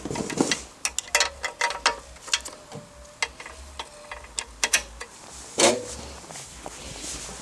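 A socket wrench with a 10 mm socket turning a bolt on a flooded Toro lawnmower, giving quick close ratcheting clicks in short irregular bursts over quiet background.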